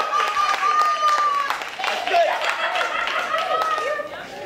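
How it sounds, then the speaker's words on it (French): Audience at a storytelling show applauding: dense, sustained clapping close and loud throughout, with a voice speaking over it and a few cheers. "on a applaudi très très fort"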